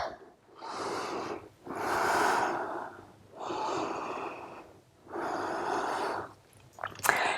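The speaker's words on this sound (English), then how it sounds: "Take some good breaths" Deep, slow breaths during a cardio cool-down stretch in a forward fold: four long airy exhales and inhales, each lasting over a second with short pauses between, very close and breathy, ending with a faint click.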